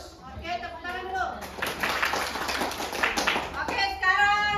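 Hand clapping from a group in a classroom, a burst of many palms in the middle stretch with a teacher's voice speaking before and after it.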